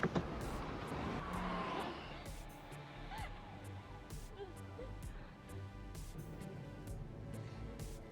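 A car drives off in the thriller film The Last House on the Left, its engine a steady rumble at moderate loudness with a brief tire skid near the start, layered with film soundtrack and no speech.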